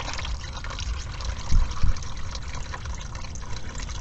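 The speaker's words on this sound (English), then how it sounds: "Try and catch as much drip as we can here." Automatic transmission fluid drips and trickles from a 2005 Dodge Dakota 3.7 during a filter change, a steady liquid patter with a couple of louder splashes, close by and with no talk.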